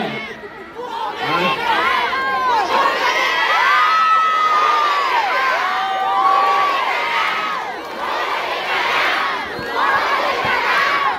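A large political rally crowd in the Philippines shouts and cheers, with loud overlapping voices, whoops and calls rising and falling in waves, sustained and close throughout.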